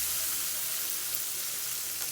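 Curry leaves sizzling in hot oil for tempering a homestyle moringa spinach dhal, a brief, fairly faint, even hiss with no talking.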